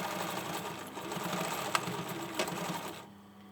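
A sewing machine stitches a hoodie shoulder seam at a 1.5 cm allowance, humming steadily and close with a couple of sharp ticks before the motor stops near the end.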